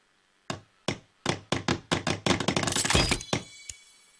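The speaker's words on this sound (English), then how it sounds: "now let's go start my fire" Building a campfire in The Forest video game: a series of hollow wooden thunks, sparse at first and then speeding into a rapid cluster before a final lone knock, heard alone.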